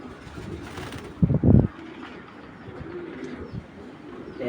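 A racing pigeon gives a short, low cooing burst against quiet background, with faint rustling afterward.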